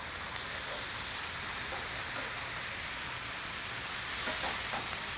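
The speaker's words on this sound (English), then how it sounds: "You hear that? That's sizzle." Korean fried rice sizzles steadily in a hot pan while being stirred, a dense continuous crackle close up with small scraping accents and no voices.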